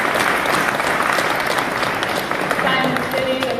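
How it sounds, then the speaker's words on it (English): Steady, loud applause from a large crowd at the Politicon 2017 convention, a dense continuous wash of clapping throughout, with a voice faintly audible underneath. "I want to start off with just giving a huge applause to the team here at Politicon"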